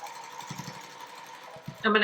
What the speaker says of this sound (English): So I'm going to line these up and sew a 1/4 inch seam across here